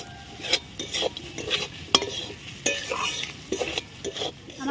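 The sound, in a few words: pointed gourd dorma being sautéed and stirred in pan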